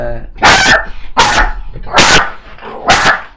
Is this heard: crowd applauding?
no